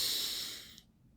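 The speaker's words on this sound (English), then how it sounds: "First, take a deep inhale." A single deep inhale through the nose at a calm, guided breathing pace, close and soft, fading out after under a second into quiet.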